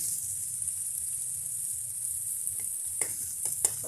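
Sliced onions for pork steak fry in a pan with a constant bright sizzle, close and steady, joined near the end by a few sharp utensil scrapes and clinks against the pan.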